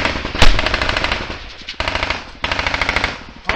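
Heavy machine-gun fire during a Taliban ambush on US soldiers in Afghanistan: loud, close, rapid bursts of shots with short pauses between them and a sharp crack near the start.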